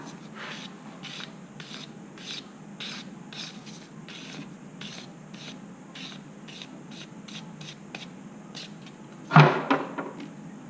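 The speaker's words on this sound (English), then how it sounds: "Just going to remove the burr off this end from sawing." A file rasps back and forth across a small sawn metal jewellery piece to remove a burr, a close, quiet, rhythmic scraping of short even strokes, ending with a brief clatter.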